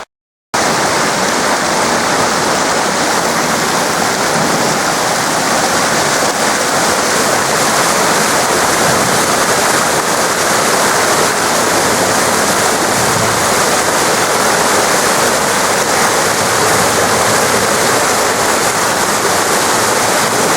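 Waterfalls below a flight of steps at Wakidenomya-jinja shrine in Japan, a loud, steady rushing roar of falling water that continues unbroken from start to finish with no voices.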